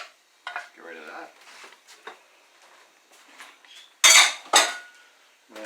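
A utensil scrapes and clinks against a pan as carbonara pasta is stirred with the egg and cheese mixture, with light scraping and then two sharp, loud metallic clanks near the end.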